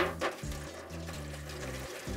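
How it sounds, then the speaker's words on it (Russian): Cold water pours into a metal tray set inside a charcoal grill, a steady close splashing and trickling stream with small shifts in pitch as it fills, no voices. "в который нальем холодную воду"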